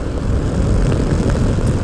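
Steady, loud engine and wind roar of a motorcycle carrying a passenger riding pillion, continuous and close with no talk over it.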